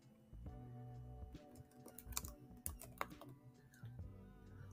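Keys patter on a computer keyboard as a user's first and last name are typed into a search field, a quick, irregular run of soft, close clicks over a steady tonal background.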